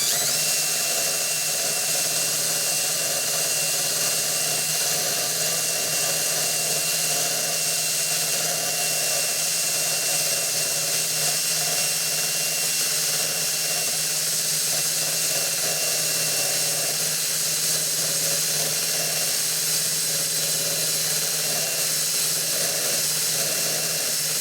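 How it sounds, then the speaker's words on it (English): A steady, continuous power drill whine with a paint-stripping bit grinding paint down to bare metal, loud and unbroken throughout with no pauses. "you put this in your drill, and this does a really good job of cleaning off the paint"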